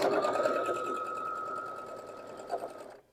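A home sewing machine stitches a quilt block seam, joining pieced fabric for a basket quilt block: a steady, fast mechanical whir that runs close and loud for about three seconds, then stops abruptly.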